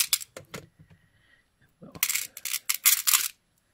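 Sharp metallic clicks and snips of wire cutters trimming beading wire for gemstone chip beads, a few separate cuts close up followed by a louder burst of clipping and handling noise.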